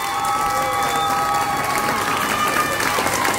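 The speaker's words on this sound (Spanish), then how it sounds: "Aplauso" A dance-show audience applauds and cheers throughout, dense clapping with shouts and steady crowd noise at close range, continuous and loud for the whole stretch.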